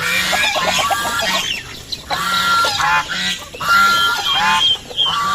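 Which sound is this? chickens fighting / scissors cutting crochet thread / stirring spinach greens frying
chickens fighting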